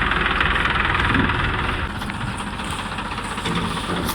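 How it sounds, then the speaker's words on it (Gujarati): An empty tractor pulling away after unloading rumbles steadily at moderate distance, a low mechanical drone that eases slightly in level as it continues, with no voices. "આ અમારા કાળુભાઈ ટ્રેક્ટર નીકળી ગયા છે ખાલી કરીને."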